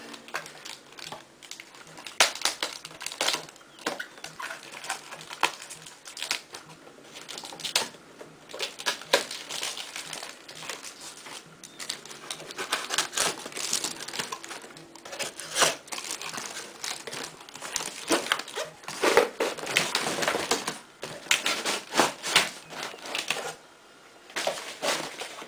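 Knife slicing and ripping through cardboard and plastic packaging on a Rock Band 2 drum set box, a long run of close crinkling, crushing and tearing bursts with no talk.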